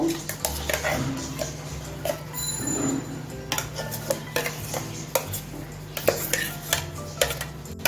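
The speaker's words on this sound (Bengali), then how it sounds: "গ্যাসটা মিডিয়ামে রেখে নেড়ে চেড়ে একটা মন্ড তৈরি করে নেবো" A utensil stirs thickened milk and mango purée in a pan over medium heat for mango barfi, giving repeated close scraping and clinking strokes in an uneven rhythm over a low background hum.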